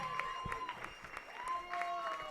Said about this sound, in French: Allez, on les applaudit bien fort, s'il vous plaît.